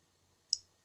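Scissors snip through thread once, a single sharp, quiet click against near silence.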